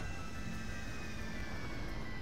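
An airplane flies in Grand Theft Auto 5, with a steady, loud engine drone that fills the whole stretch and no voices over it.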